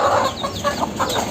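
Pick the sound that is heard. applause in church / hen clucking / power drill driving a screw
hen clucking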